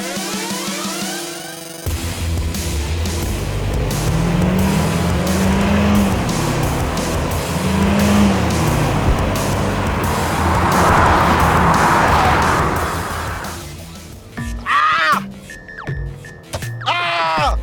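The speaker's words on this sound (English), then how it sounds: "This is me full throttle, full throttle, full throttle" A Subaru car engine is held at full throttle, giving a loud, sustained, close roar with road and tire noise. Near the end it breaks into rougher, uneven bursts.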